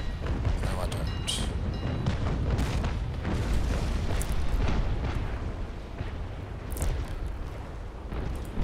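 Heavy frigate cannon fire from a Constitution-class ship in the naval game Naval Action: a dense, continuous rumble of booming broadside shots and explosions, loud throughout, with a voice speaking over it.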